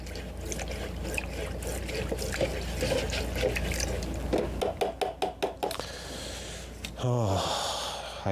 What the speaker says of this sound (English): let me clean off my fan brush again really quick.